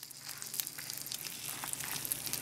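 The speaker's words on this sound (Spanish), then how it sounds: "aquí también vamos a poner a freír 2 dientes de ajo y un pedazo de cebolla." Two garlic cloves and a piece of onion fry in a pan while making pork chops in red salsa, giving a soft, steady sizzle with faint crackles close by and no voices.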